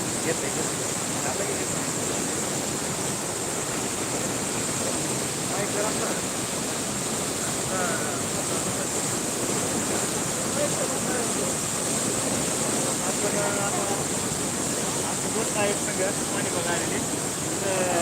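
A swollen village stream with a rising current rushes steadily and loudly, a constant broad wash of water that never lets up under a gathering rain sky.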